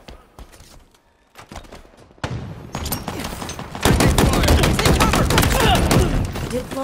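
Rapid gunfire in the video game Halo Infinite, starting as sparse scattered shots and building into dense, loud bursts of automatic fire with sharp cracks layered over each other.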